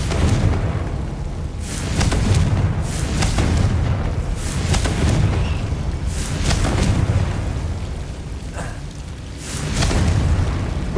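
Repeated magical explosion spells cast during Hogwarts Legacy gameplay: a series of booming blasts and bursts roughly every second or two over a continuous rumbling game soundscape, loud and close with no talking.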